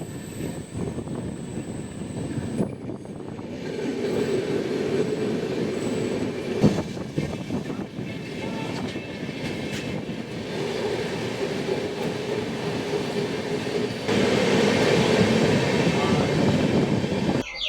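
The Kanchankanya passenger train runs beyond Siliguri, its carriages giving a loud, continuous rumble and rattle of wheels on track, heard from on board with surges and brief squeals and no talking.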